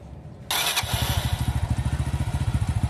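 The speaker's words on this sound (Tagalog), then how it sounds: "papatayin ko naman itong makina, tapos i-start ko yan kung one click na siya" A motorcycle engine fires on the first press of the starter and settles straight into a steady, close idle with an even, rapid thump.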